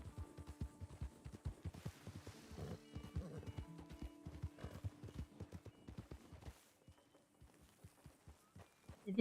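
Horse hooves pound in a fast gallop in the Western video game Red Dead Redemption, a close rhythmic drumming that slows and fades near the end.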